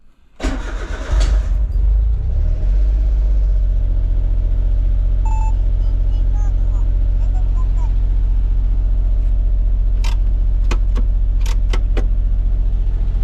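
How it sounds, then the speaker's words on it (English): An Autozam AZ-1 fitted with an HKS turbo timer cranks and fires into a steady, close rumbling idle, with a few sharp clicks and taps later on over the running engine. "let's start the car"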